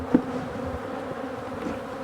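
Angry honey bees circle an opened hive, their thick droning buzz filling the air close by, with a brief louder hum as one passes right near at the start.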